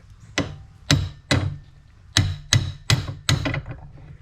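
A 2021 Ford Bronco shock being hammered into place during a 2-inch lift kit install, with about eight sharp, loud, evenly spaced metallic blows, close up and with no talk.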